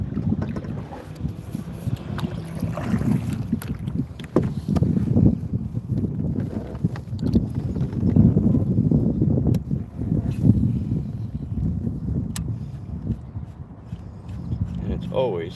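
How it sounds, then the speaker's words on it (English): Strong wind buffets a microphone out on the water while someone goes kayak fishing, a loud, continuous low rumble with gusts and occasional knocks against the boat, with a voice talking over it. "I swear, wind is a kayak fisherman's worst enemy"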